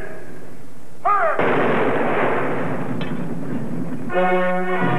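A firing squad fires a single loud rifle volley in an old film. The sharp blast rolls on for a few seconds, with music before and after it.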